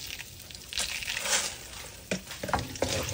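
Brown sugar caramelizes in a frying pan with bay leaves and whole peppercorns, a soft close sizzle with a few scraping stirs and light crackles, fairly quiet and without speech.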